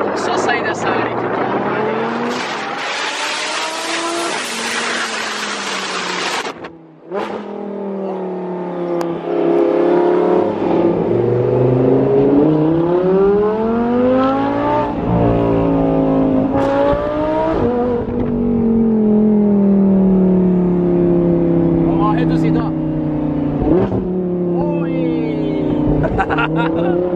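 A car's engine revs and accelerates as it pulls away from a street, with the motor note rising and falling steadily and loudly throughout; people talk over the engine noise.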